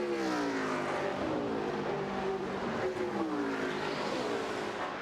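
NASCAR stock cars on the final lap of the 2001 Brickyard 400 at Indianapolis Motor Speedway, engines roaring in a steady, dense wall of sound with pitches sliding up and down as cars pass, continuous and loud with no voices.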